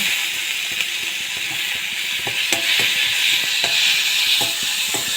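Chopped tomatoes sauté in a hot pan with a steady, loud hiss and sizzle, broken by several sharp scrapes and knocks of a spoon stirring them.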